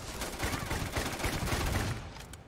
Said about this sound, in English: Ooh, nice grenade.